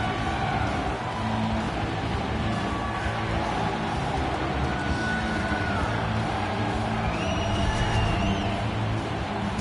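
Hockey arena crowd in the NHL 19 video game roaring after a goal, a steady dense cheer filling the whole stretch at constant loudness with faint tonal horn-like notes above it.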